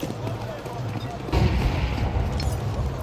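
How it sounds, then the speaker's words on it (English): A single gunshot rings out in a Counter-Strike 2 match, a sharp loud burst that gives way to a dense rumbling tail, with commentators talking over the game audio. "Orb sounded off a shot there"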